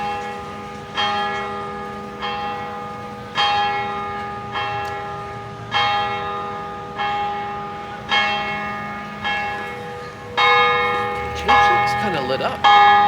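A church bell in a town centre beside a park tolls in San Antonio de Areco, about ten loud, evenly spaced strikes roughly a second apart, each ringing out and decaying before the next.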